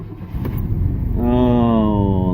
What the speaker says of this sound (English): it's so nice having a truck that starts